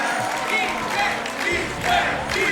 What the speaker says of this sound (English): We got a DK cheer.